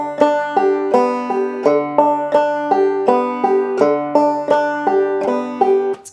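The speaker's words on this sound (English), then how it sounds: "We're going to be using an alternate string pull-off as a substitute for our first 5th string" A clawhammer banjo plays in waltz time, using an alternate string pull-off as a substitute for the fifth string, producing steady, bright plucked notes in a lilting three-beat pattern, close and clear with no talking.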